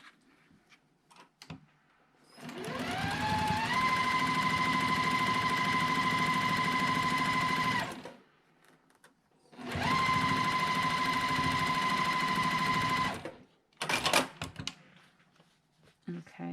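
A sewing machine stitches quilt block pieces together in two long runs, each ramping up to a fast, steady whirring hum before stopping, with quieter handling clicks between and after.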